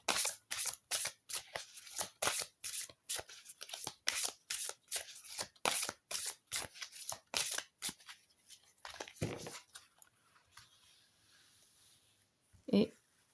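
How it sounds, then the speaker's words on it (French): Large oracle cards being shuffled by hand, a long run of rapid, rhythmic riffling bursts that thin out toward the end, fairly close and alone with no talk, ending in a single sharp tap. "elles sont très grandes, les cartes, mais elles se mélangent super bien"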